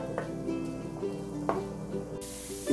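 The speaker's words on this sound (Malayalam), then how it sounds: "ഇതിലേക്ക് 1 ടേബിൾ സ്പൂൺ ബട്ടർ ആഡ് ചെയ്ത് കൊടുക്കുന്നുണ്ട്. ഇതൊന്ന് സോഫ്റ്റായി വരുന്നവരെ നമുക്കൊന്ന് വഴറ്റി കൊടുക്കാം." Butter sautéing in a pan for a butter chicken masala, with steady soft sizzling and a few light utensil clinks and scrapes throughout, close and moderately quiet.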